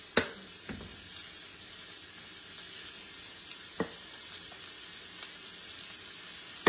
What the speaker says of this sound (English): Okay, I'm going to put that down into this hot iron. We're going to cook that up.